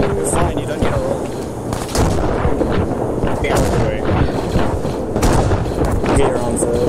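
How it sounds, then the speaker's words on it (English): Mortar rounds and gunfire in Arma 3 thump and crack continuously through a dense battle din, with radio chatter and voices talking over the steady barrage. "All call signs be advised, incoming mortars, keep your heads down"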